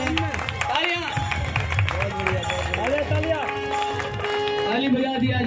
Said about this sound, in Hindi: ताली बजा दिया जाए।